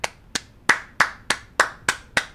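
Eight close, crisp hand claps ring out in a fairly even rhythm, each with a short decay, against near silence.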